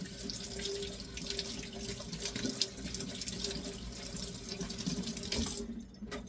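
A water tap runs steadily as a cat fountain's filter is rinsed under it, a close, continuous splashing hiss of water in a sink that cuts off abruptly near the end.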